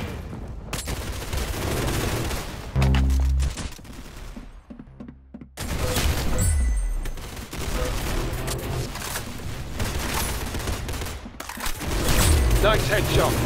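Gunfire in the Roblox Arsenal shooter on the aircraft map: loud bursts of rapid shots and booms come in clusters, and an excited voice and game sounds are heard between them.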